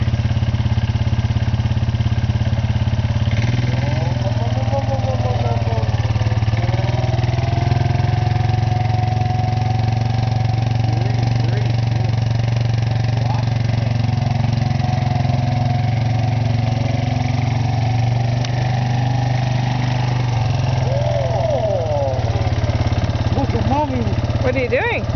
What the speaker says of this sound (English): Are you driving the quad?